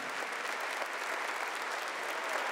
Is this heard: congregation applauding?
yes